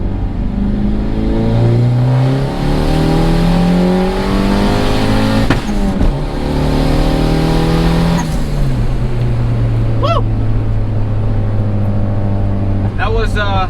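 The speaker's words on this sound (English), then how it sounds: "That was a full second gear pull, and then just getting into third just a little bit." A turbocharged Honda Accord pulls hard through second gear and just into third, its engine note climbing steadily and loud from inside the car, with a brief shift break and faint whooshing turbo noises near the end.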